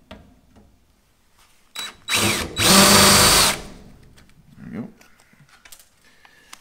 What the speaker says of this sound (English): You don't wanna drill all the way through your metal.